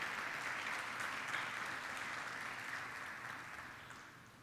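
A church congregation applauds in a steady, fairly faint wash of clapping that gradually tapers off over several seconds.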